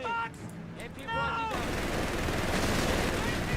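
An MG42 machine gun fires in the Company of Heroes 3 strategy game, a dense rattling burst that starts abruptly partway through and continues steadily to the end, following a brief stretch of other battle sounds.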